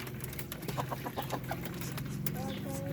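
Darag native breeder chickens cluck in a series of short, close calls over steady farmyard background noise, with a faint voice now and then.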